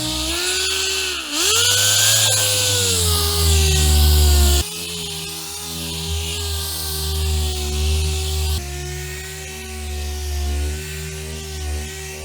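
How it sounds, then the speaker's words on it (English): Orbital sander running steadily with a 400-grit disc over primer on the lower apron of an M-Tech 2 kit on a BMW E30 325 Sport, a loud continuous whine with slight pitch shifts as pressure changes, no talking. "So I'm gonna crack on now and sand it down."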